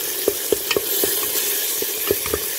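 Tomatoes frying in a pan for sardine dolma and being stirred, with a steady sizzle under repeated scraping strokes of the stirring utensil, close and fairly loud, no talking.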